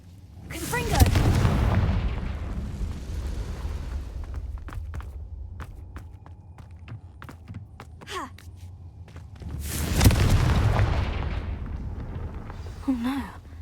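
Confringo fire spells burst in Hogwarts Legacy, with two heavy booming explosions several seconds apart. Sharper pops, crackles and game effects fill the gap between them, and a brief character vocalization comes near the end.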